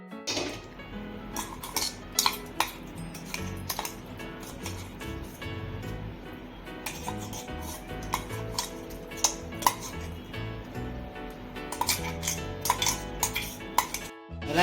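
A metal spatula scrapes and clinks against a pan as ground masala is stirred into fried snack pieces, a steady busy run of close scraping and clattering with no talk.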